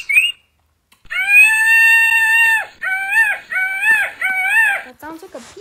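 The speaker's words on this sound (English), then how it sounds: "That sounds like a peacock." A loud, shrill peacock call: one long drawn-out wail followed by three shorter repeated cries, close and prominent.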